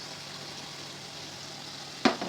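Chilli, turmeric and coriander powder frying in oil for chicken biryani, a steady close hiss that runs evenly, then a sharp scrape and clatter of stirring near the end.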